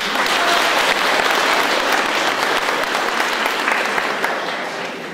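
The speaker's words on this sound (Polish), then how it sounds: "najlepszą nagrodą to są gromkie brawa" Loud, dense applause from an audience at an Easter folk festival in the Carpathian village of Świerzowa Polska, sustained throughout and easing slightly toward the end.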